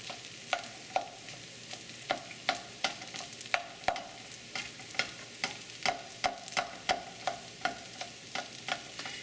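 A spatula chops scrambled egg against a hot pan for longganisa fried rice, giving a steady series of sharp taps and scrapes over a faint sizzle, close and moderately loud, with no talking.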